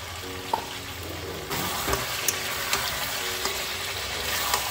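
Potatoes go into a pan of meat curry frying vigorously, giving a steady, close sizzle with a few sharp clinks and stirring scrapes on top.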